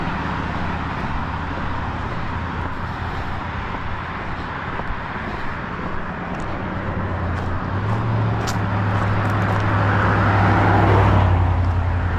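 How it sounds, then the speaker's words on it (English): Cars passing on a road beside someone walking outdoors, with a continuous traffic rumble and a closer vehicle swelling louder as it goes by toward the end. "Feels good when the cars go by because they drag air behind them"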